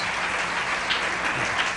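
Studio audience applause on a 1980s late-night talk show set, triggered by an applause button; a steady, dense wash of clapping heard alone at moderate level.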